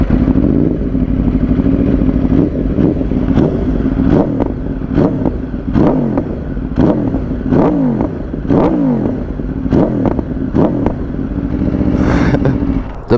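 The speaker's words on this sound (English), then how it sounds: "you already know we're gonna do some more revs" Aprilia RSV4 motorcycle engine revved hard at a standstill, a loud, close series of about ten sharp throttle blips rising and falling over a rough, rumbling idle.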